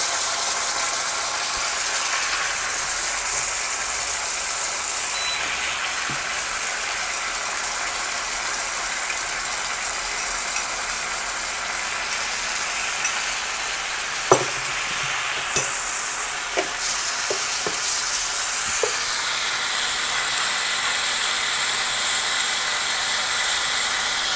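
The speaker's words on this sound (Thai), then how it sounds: "แล้วก็ผัดเครื่องที่เราเตรียมไว้เนี่ยค่ะ นำลงไปผัดด้วยกันเลย" Prepared chili paste ingredients stir-fried in a pan, a steady sizzle throughout with occasional sharp scrapes and clicks of the utensil against the pan, close and fairly loud, no talking.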